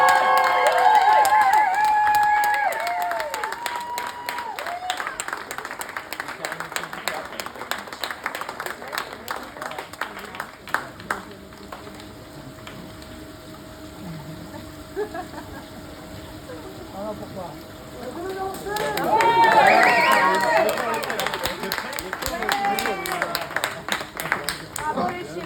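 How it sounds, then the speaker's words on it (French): A crowd at a France Coquine show at the Glamour Beach applauds performers Fiona and James; clapping and cheering come in uneven bursts, loudest near the end, mixed with music and voices. "Je vous demande d'applaudir"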